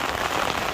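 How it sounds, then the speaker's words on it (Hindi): Heavy rain falls in the UAE, making a steady, dense hiss of drops hitting surfaces, loud and continuous with no other sound. "यूएई के कई इलाकों में भी भारी बारिश से आम जनजीवन बुरी तरह प्रभावित हुआ।"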